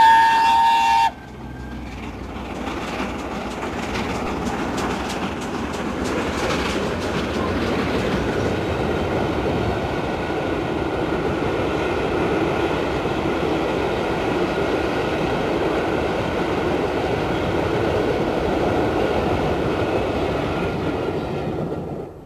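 Steam locomotive Mallard pulling out of York station on a rail tour, a long steady rumble of wheels and carriages with rhythmic clatter, after a brief sharp whistle at the start.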